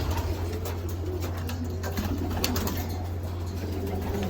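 Pigeons coo continuously inside a loft, their soft repeated calls layered close together over a steady low hum, with no talk.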